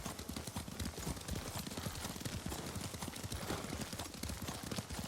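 Rapid hoofbeats pound steadily as a horse gallops in the video game Ghost of Tsushima, with dense, continuous thudding and no talking.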